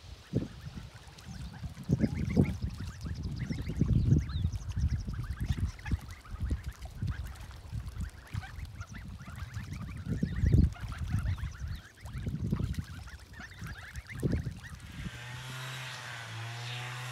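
Geese on a village pond honk and cackle in repeated bursts, near and fairly loud, with quieter gaps between calls and a softer rustling close to the end.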